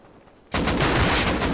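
Gunfire in the survival video game Rust bursts in after about half a second of quiet, a dense, loud run of rapid shots that continues to the end, close and alone.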